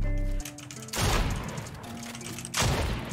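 Heavy gunfire in a video game, a weapon shooting through walls, with two loud bursts of blasts around one and two-and-a-half seconds over an ongoing background din.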